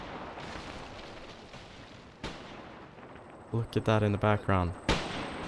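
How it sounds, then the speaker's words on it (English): Gunfire and tracer fire in the war game Mius Front, a steady distant rumble of shooting with a sharp crack near the middle, then a burst of loud rapid shots near the end, under brief talk. "Look at all that tracer fire."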